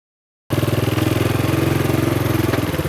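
A motorcycle engine starts abruptly and runs close by, a loud, steady, rapidly pulsing idle putter with no talk over it.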